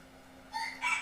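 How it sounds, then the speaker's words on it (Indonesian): A rooster crows in short bursts, rising over a quiet background hum and fairly close, heard alone with no voices. "kalau ada suara ayam berkokok itu"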